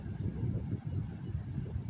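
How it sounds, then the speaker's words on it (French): Low, steady rumbling wind at the seaside buffets the microphone, a continuous gusty roar with no voices. "Écoute également le vent"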